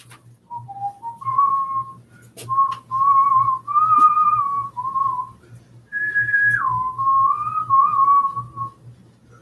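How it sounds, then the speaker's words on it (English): Someone whistles a slow, meandering tune up close, sustained notes in several phrases with a brief pause midway. "Pay attention to the information, not what I'm whistling."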